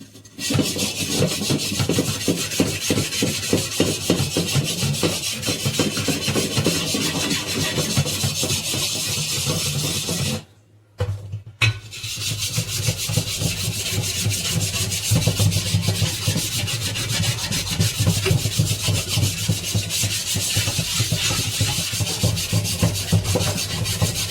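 Steady, continuous rasping scrub of a griddle pan, close and loud, with a brief pause near the middle before the scrubbing resumes.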